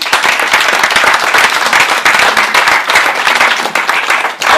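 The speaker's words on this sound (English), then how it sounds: "Let's all give him a warm round of applause." A conference audience gives a warm round of applause for a coaching presenter coming on stage, with dense, loud, continuous clapping from many hands that carries on without a break.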